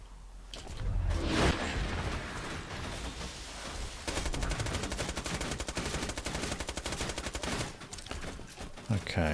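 Turret gunfire in Borderlands 2 hammers steadily as rapid automatic bursts, a loud continuous rattle running through most of the stretch with a heavy impact near the start.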